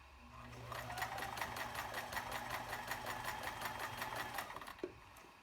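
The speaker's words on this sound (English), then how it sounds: "And now I will show you the zigzag stitch. I'll go for a midway zigzag." A Kenmore free arm zigzag sewing machine runs a medium-width zigzag stitch in a fast, steady, rhythmic whir for about four seconds, close and clear, then stops with a small clunk.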